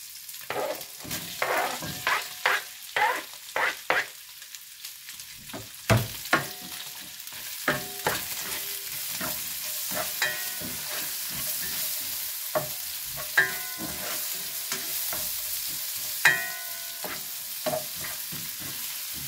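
Chopped onion sautéing in a hot pan, a steady sizzle broken by repeated clattering stirs and scrapes of a utensil, loud and close with uneven bursts throughout.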